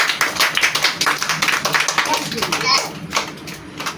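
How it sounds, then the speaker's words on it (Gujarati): Young children in an anganwadi class clap together in a quick, uneven rhythm of sharp close slaps, mixed with their chatter and a teacher's voice. "તાળી પાડો વાત ઉપર"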